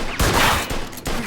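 Gunfire in the video game Mafia II Definitive Edition, a few sharp, loud close shots in quick succession, with no voices heard.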